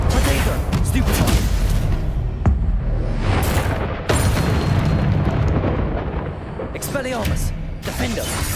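Stupefy spell cast during a Hogwarts Legacy battle, a dense roar of magical bursts and booms layered with whooshes, loud and continuous, under a player's talk.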